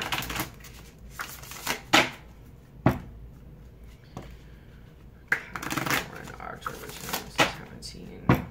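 A deck of animal spirit cards is shuffled by hand in a quiet room, giving bursts of crisp riffling and snapping in an uneven rhythm, separated by short pauses.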